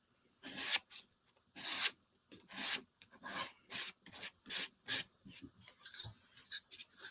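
Hand sanding paint off a craft project with 320 grit sandpaper gives about a dozen close, rasping back-and-forth strokes in a steady rhythm, with no talking.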